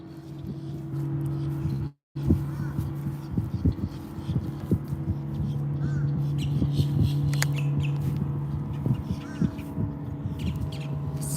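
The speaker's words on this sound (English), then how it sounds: "Sounds like we're in a bird sanctuary." Birds call near the banks at the mouth of Lake Okeechobee in Florida, scattered squawks and caws over a low steady hum, with a brief dropout early on.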